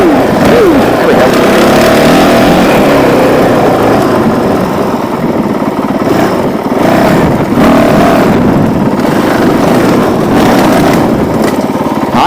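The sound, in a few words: Honda CRF450L motorcycle engine riding off-road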